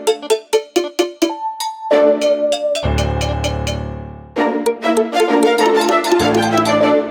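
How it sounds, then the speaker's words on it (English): A muted electric guitar sample called Mute Brand from Xenology, played in FL Studio, plucks short staccato notes in a quick pattern, broken by a sustained low chord, then the choppy plucks resume. "So I first started with this electric guitar, still from Xenology, which is called Mute Brand."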